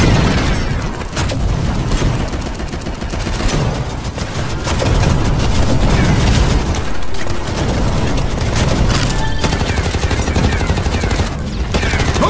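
Continuous gunfire in a mobile FPS game, rapid bursts of automatic shots and booms running nearly nonstop, loud and close, with no talking.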